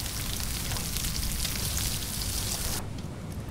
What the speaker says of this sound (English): You can hear the sizzle.